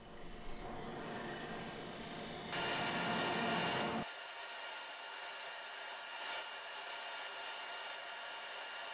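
A steady abrasive whir of Osage orange wood turning on a lathe as a diamond parting tool bites in forming a tenon, loud and continuous, shifting tone partway through as the cut changes.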